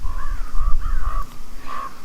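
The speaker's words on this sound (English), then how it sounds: "Shut up, you stupid birds!" Crows caw nearby in a quick series of four or five harsh calls, loud and clear over a low rumbling background with no speech.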